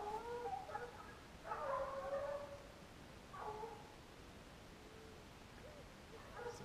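A dog gives faint, short barks and whimpering yips in a few separate bursts, outdoors in brushy ground during a pig-catching contest, set against a steady hiss of background noise.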